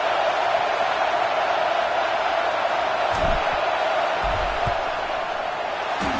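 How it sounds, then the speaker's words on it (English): A loud football stadium crowd roars in a steady, continuous wash as the kicking team lines up for a field goal, with occasional thumps. "This crowd trying to do its part to get inside the kicker's head."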